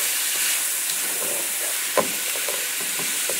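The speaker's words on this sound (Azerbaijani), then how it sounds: "Soğanları yaxşıca qızardıram." Onions frying in a pot hiss with a steady, close sizzle, broken by soft stirring clinks and one brief knock midway.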